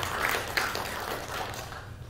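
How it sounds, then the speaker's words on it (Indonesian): A church congregation claps during a worship service, a fairly steady, moderately loud patter of many hands spread across the room for about two seconds. "Katakan amin dan berikan tepuk tangan yang meriah bagi Tuhan."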